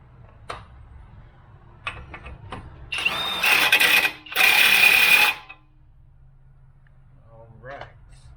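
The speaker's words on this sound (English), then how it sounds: "we'll put our axle nut on. Go ahead and tighten that down." Tightening a CV axle nut on a Jeep Patriot during axle replacement: two loud bursts of tool whirring, about a second each, with faint clicks before and after.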